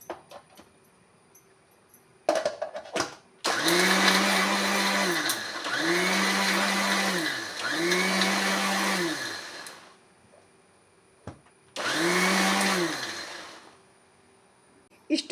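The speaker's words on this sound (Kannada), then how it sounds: "ಅದಕ್ಕೆ ಸ್ವಲ್ಪ ಮೊಸರನ್ನು ಹಾಕಿ ಗ್ರೈಂಡ್ ಮಾಡ್ತೇನೆ." A mixer grinder blends garlic with yogurt and no added water in a series of loud, whirring bursts. Several runs of a few seconds each are separated by brief pauses and clicks, heard close and alone.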